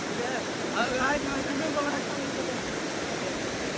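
Thadikonda waterfall gives a steady, broad rushing roar that fills the background, while someone speaks briefly over it nearby.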